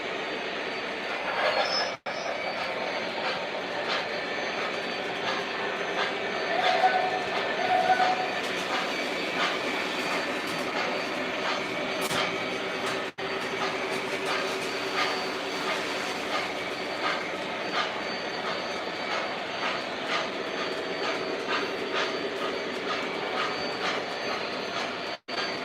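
A Lionel/MTH model decapod locomotive runs steadily along the track with a continuous metallic whir and rattle of wheels and gears, close and even throughout.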